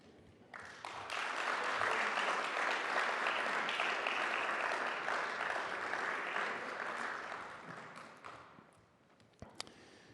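An audience at a town State of the Town address gives sustained applause that swells quickly, holds steady for several seconds, then fades to a few scattered claps and faint shuffling, with no talk over it.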